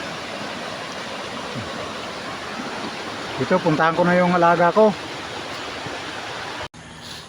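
Rushing river water roars as a constant, loud wash just after a crossing, while someone speaks briefly over it before the sound cuts off near the end.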